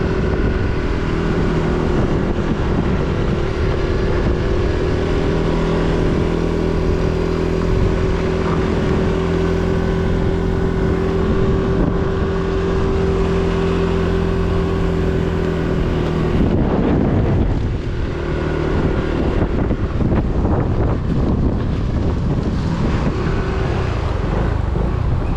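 Powerful typhoon wind during Signal No. 4 in Cabanatuan City, Philippines, roars continuously, a loud dense rush with a steady engine-like hum beneath it.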